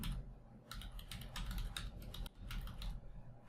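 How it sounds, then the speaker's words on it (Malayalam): Rapid typing on a computer keyboard into a Google search bar, a close, steady run of light key clicks with brief pauses. "ഇംഗ്ലീഷ് ടു സ്പാനിഷ് എന്ന് സെർച്ച് ബാറിൽ ടൈപ്പ് ചെയ്യുക"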